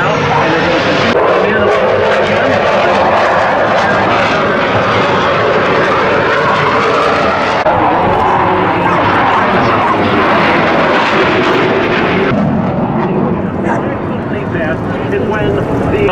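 A loud propeller airplane roars continuously close overhead, flying low over water at an air and water show, with heavy wind rumble and no letup throughout.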